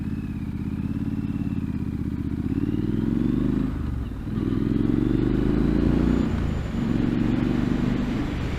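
A Triumph Street Scrambler motorcycle being ridden on a winding road, its engine droning steadily and climbing in pitch, with brief dips between gear changes, heard loud from the rider's position.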